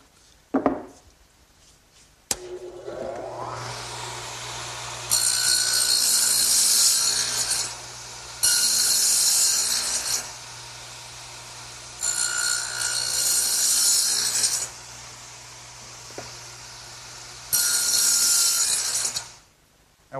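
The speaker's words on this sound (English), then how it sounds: "while I have the dado head set up in the radial arm, I want to make this end piece for my tool storage area" A radial arm saw fitted with a dado head cuts a rabbet joint in a wooden end piece. A motor hums steadily while four loud, rasping cutting passes come and go, each lasting a couple of seconds, with quieter running between them.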